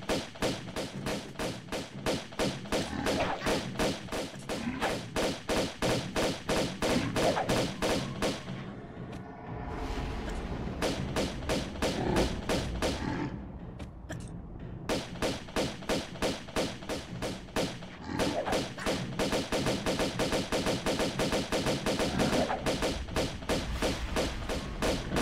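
Pistols fire in Tomb Raider 2 as rapid, evenly spaced sharp shots, loud and continuous. They stop in two brief gaps, then resume.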